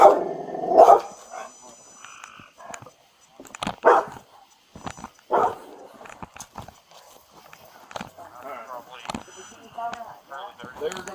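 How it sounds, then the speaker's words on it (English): A dog barks in several short loud bursts amid a tense scene after a dog attack involving a county deputy, with people talking and moving around between the barks. "is this dog friendly?"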